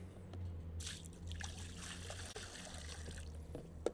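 Water is poured and sloshed out of a new cast-iron cauldron being rinsed, a continuous trickling and splashing close by over a low background hum.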